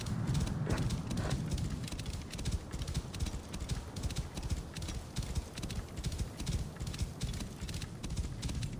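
Rhythmic clip-clop of horse hooves at a steady trot in the video game Assassin's Creed: Origins, close and continuous, with a faint high tone running above and no talking.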